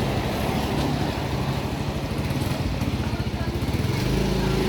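A Yamaha Mio i125 scooter with a misfire and hard-starting fault idles close by during a test run, its steady engine putter pulsing in a loose rhythm throughout, with a low continuous rumble underneath.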